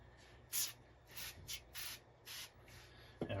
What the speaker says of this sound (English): I want to spray this really good up top here.